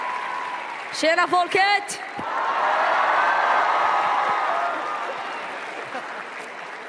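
A Swedish arena audience bursts into sustained applause at a charity event, a broad wash of clapping that swells after a brief spoken greeting and slowly fades under the crowd's murmur.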